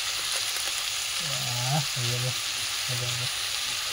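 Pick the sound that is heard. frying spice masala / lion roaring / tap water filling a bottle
frying spice masala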